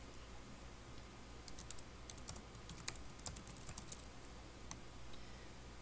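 Quiet, close computer keyboard typing: a short burst of rapid key clicks in the middle, then a single click, over a low steady hum.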